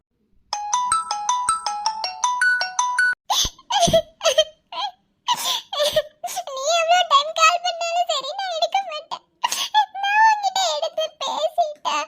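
A phone ringtone plays as a bright, repeating melodic pattern for about three seconds, then gives way to a child's chatter and giggling that fill the rest of the clip.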